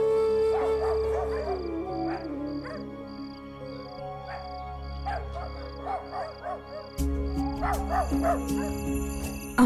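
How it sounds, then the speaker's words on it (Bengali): Several dogs whimper, yelp and bark together at an eerie scene, the cries rising and falling over a steady low drone and background music. "কুকুর কাঁদছে কেন?"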